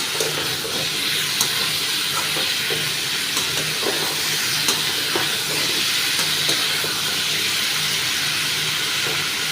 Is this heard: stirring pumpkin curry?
yes